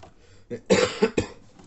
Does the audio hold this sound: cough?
yes